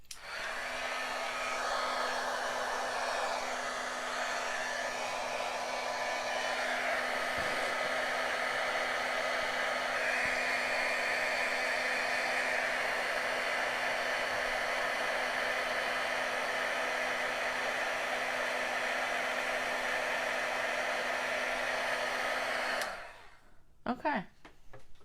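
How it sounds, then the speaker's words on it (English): A heat gun blows with a loud, continuous whirring roar for over twenty seconds, nearly unchanging, before it shuts off abruptly, followed by a few faint handling sounds. "I'm gonna bring in my heat gun. So it'll be loud for a minute."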